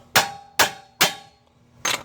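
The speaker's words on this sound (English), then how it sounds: "we'll try it with a regular hammer" Four heavy metallic hammer blows on a 2013 Hyundai Sonata front wheel bearing ring out, evenly spaced at first with a pause before the last, each strike sharp and close with a short ringing decay.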